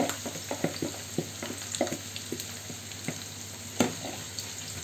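Onion sizzles in hot oil in a pan, a steady crackling hiss with scattered soft pops and taps of stirring, fairly quiet and close with no talk.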